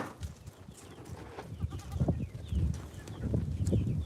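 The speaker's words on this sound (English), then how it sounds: "So those are our goats." Goats on a farm at pasture, several close bleats and shuffling, hoof-like knocks over a few seconds, with a voice faintly mixed in.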